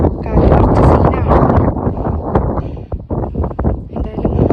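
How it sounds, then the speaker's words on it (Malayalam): Strong gusts of wind on a hilltop pilgrimage peak buffet the microphone, producing loud, rumbling roars that swell and dip unevenly throughout. "കാറ്റ് കുറച്ച് സീനാണ്"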